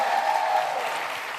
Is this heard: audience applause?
yes